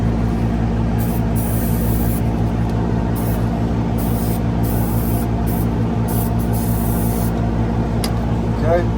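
Penetrating spray hisses onto bolts in short, repeated bursts over a steady loud background hum, the spray onto parking brake hardware coming in several separate spurts.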